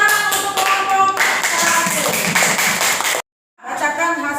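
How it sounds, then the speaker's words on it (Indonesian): Schoolchildren in a classroom clap for a group of classmates in quick, rhythmic bursts of many close hands, with voices mixed in. The clapping stops briefly into silence before resuming. "Tepuk tangan untuk kelompok"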